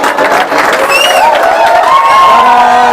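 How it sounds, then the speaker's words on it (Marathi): An audience at a Pune study-hall quiz show claps and cheers for a correct answer, a loud, dense burst of applause with whoops and shouts throughout. "जोरदार टाळ्या होऊ द्या"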